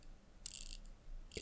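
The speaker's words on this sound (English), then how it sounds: "Let's wind the watch." A mechanical wristwatch with a double balance being wound by its crown, giving two short bursts of fine ratcheting clicks, close and quiet, separated by a brief pause.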